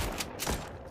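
Rapid gunfire from the video game World War Polygon, a dense, loud burst of shots lasting about a second with no talking.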